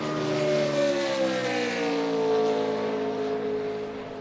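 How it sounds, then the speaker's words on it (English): A NASCAR Chevy Silverado race truck, number 87, on a qualifying lap at Atlanta, its engine droning in a steady high whine that holds pitch, then slowly drops as it passes at a distance. "Chris Jones on the racetrack now in his number 87 Chevy Silverado for his first lap of qualifying"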